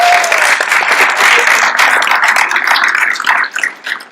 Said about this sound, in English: if you could give me a round of applause for Paula Ioanide